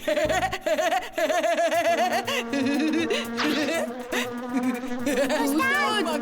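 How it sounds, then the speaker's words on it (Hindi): In a Chhota Bheem cartoon, a fly buzzes steadily and continuously under busy background music, with a giggling sound effect. "ये कोई आम मक्खी नहीं, जरूर ये खास रक्षक है जो नक्शे की रखवाली कर रही है।"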